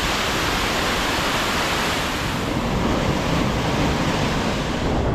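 A waterfall in Cherrapunji, Meghalaya, on a day of heavy rain roars as a dense, unbroken rush of water, loud and close, with no voices.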